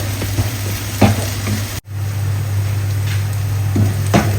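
Sliced onions sizzle steadily in a pan for sausage curry, a continuous close frying hiss with occasional stirring scrapes and a brief dropout partway through.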